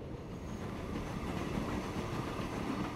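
Passenger train in the rail-building game Transport Fever 2, rolling steadily along the track with a continuous rumble and faint clickety-clack for several seconds, heard alone at moderate volume.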